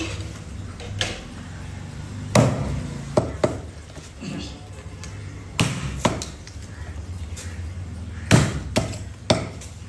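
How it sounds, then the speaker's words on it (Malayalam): A large 6.5 kg barramundi being chopped in a fish shop, heard as sharp, irregular knife or cleaver thuds against a board, several heavy blows spaced over quiet background noise. "കടയുടെ ഉള്ളിലേക്ക് കൊണ്ടുപോയിട്ട് നമ്മൾ കട്ട് ചെയ്യാൻ പോകുന്നു."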